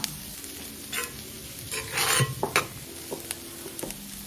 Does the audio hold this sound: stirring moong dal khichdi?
yes